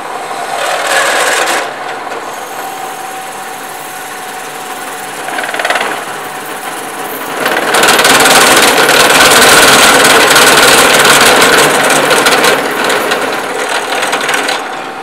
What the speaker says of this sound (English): we're going to drill with a 1 inch drill bit